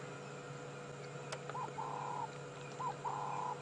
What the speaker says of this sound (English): they're the ultimate bird of peace, the ring-necked dove